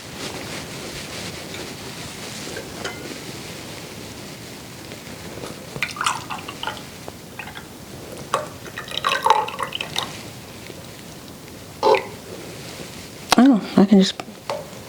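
Homemade apple jelly poured into jars, with scattered drips and liquid splashes building toward a louder burst of pouring near the end, while a person talks intermittently.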